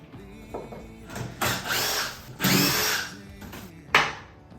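A power drill backs screws out of wooden strips in several short whirring bursts of about a second each, close and fairly loud, with quiet gaps between them.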